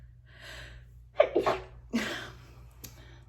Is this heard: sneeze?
yes